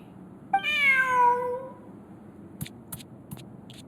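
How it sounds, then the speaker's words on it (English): A cat in the Genshin Impact video game gives one drawn-out, falling meow, clear and close, and a few short clicks follow. "Who's a good kitty?"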